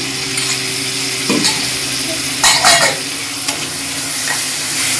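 Curd stirred into tomato rice in a hot pan, giving a loud, close sizzle with scraping spoon strokes and a few clinks against the pan.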